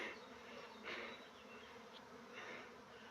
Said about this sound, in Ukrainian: Ось такий рій привився